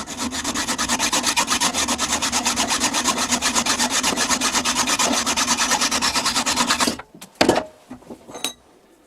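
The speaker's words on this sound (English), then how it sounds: "I'll hacksaw this off." A hacksaw cuts off a piece of metal with fast, even back-and-forth rasping strokes that are close and loud. The strokes stop after about seven seconds, followed by a few clanks.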